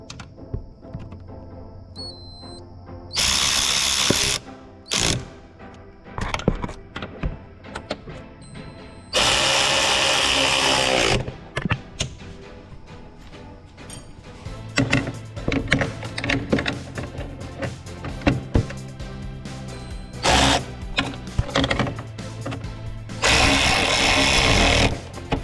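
Three chaincase screws being driven into a 2017–2021 Polaris snowmobile: loud, close bursts of whirring tool noise separated by pauses and clatter, with several long runs and shorter spurts and no speech.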